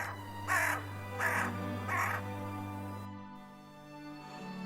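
Three loud, harsh caws from a single crow ring out in close succession, each a raspy burst, before a quieter stretch with a low steady hum underneath.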